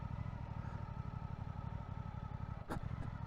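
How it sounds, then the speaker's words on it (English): A Suzuki GSX8R motorcycle engine pulls away from the clutch in a gravelly parking lot, giving a steady, fairly faint low throb with one brief sharp click near the end. "this engine, the second you get off the clutch, it really wants to pull"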